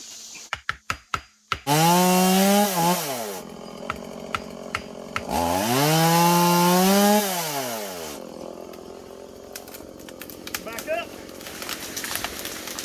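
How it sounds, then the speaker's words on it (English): A chainsaw starts with a few sharp pulls, then roars loudly through two long cutting bursts into a tree making a hinge cut, revving up and down, before idling with scattered clicks. "Put the chainsaw back in there, and let's use the biggest wedge."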